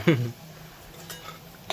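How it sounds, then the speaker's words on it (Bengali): Crisp fried pieces clatter against a pan in one short, sharp rattle, followed by a faint low hum and a light click, close by. "এটা কড়া করে ক্রিস্পি হয়ে গেছে আওয়াজ পাচ্ছ"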